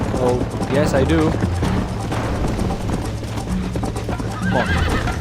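Hooves pound in a fast gallop while a horse neighs loudly in Red Dead Redemption, all under a busy mix of talking voices.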